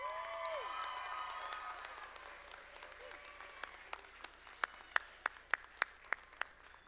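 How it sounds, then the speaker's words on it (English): An audience at a college commencement ceremony applauds, the clapping crowd starting in a broad wash and thinning to a few loud, distinct claps near the end. "Let's give them a round of applause"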